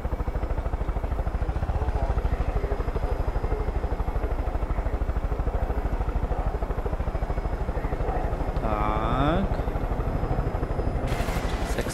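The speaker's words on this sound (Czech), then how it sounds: "Já si někde tady zaparkuju hezky vrtulník." Helicopter in the video game Far Cry 5 being set down, a loud, steady rapid rotor chop with engine drone throughout, a brief higher whine near the end.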